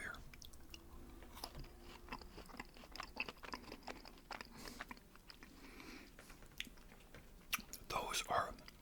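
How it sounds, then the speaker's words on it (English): Close, crunchy chewing of cookies with a layer of chocolate at the bottom, sharp bite crackles scattered throughout and a louder burst near the end, with faint whispering. "That's the little crunch you hear."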